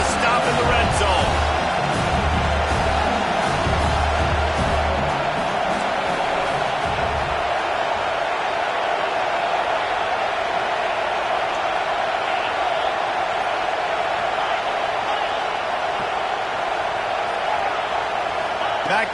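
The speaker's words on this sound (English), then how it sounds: "The crowd getting behind this defense as they try to get a stop in the red zone." A stadium crowd in College Football 26 roars steadily as the defense tries for a red-zone stop, forming a loud, continuous wash of cheering throughout, with a commentator's voice at the start.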